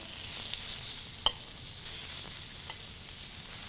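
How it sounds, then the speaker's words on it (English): Australian lamb loin searing undisturbed on a smoking-hot griddle pan, a soft steady hiss of sizzling fat with one sharp tick and a couple of faint pops, fairly quiet and close, no talk. "And I want to cook it without stirring for just a moment until we begin to get a little color on it."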